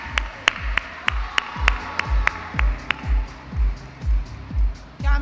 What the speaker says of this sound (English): A big round of applause for them with the recessional music